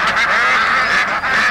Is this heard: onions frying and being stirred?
no